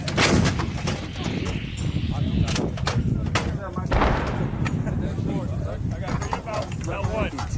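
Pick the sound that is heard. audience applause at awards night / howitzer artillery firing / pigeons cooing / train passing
howitzer artillery firing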